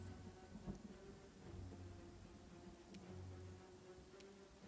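Heavy rain falling in a video game, a steady dense wash of noise running throughout with low rumbling underneath and a few faint ticks, alone without talk.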